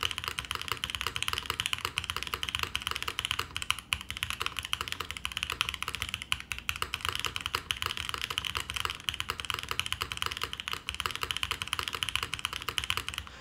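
A Neo80 TKL mechanical keyboard with brass pillars clacks under continuous, fast typing, close and moderately quiet, with no speech.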